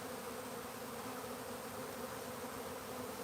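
Honey bees hum steadily at a hive in a dense, continuous drone with no voices.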